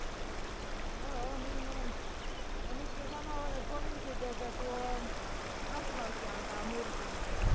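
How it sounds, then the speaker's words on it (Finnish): The Tornio river in flood rushes past, a steady wash of flowing water heard at moderate level, with faint indistinct voices nearby. "Aika lailla virtaa vesi."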